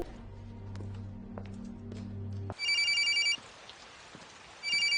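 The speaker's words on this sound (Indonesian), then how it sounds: "Sepulangnya Kang dari tempat broker, dia mendapatkan telepon dari atasannya bernama Makin" A telephone rings in two bursts of rapid electronic trills after a low humming passage, the rings loud and close with a brief pause between them and a faint patter of rain beneath.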